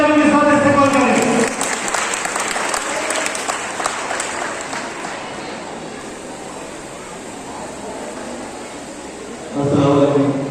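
A crowd gives loud applause for a guest at an Islamic quiz and Natiya competition inauguration function, steady clapping running under and between a man's amplified speech, which opens and closes the stretch.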